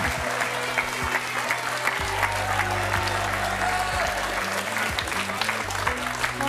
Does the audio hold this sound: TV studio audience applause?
yes